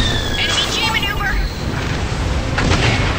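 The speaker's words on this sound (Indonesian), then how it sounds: "gua ini skillnya menggunakan senjata basuka" A bazooka fires in the Gundam Evolution game, a loud booming blast with rumbling explosion noise that fills the whole stretch, under someone talking.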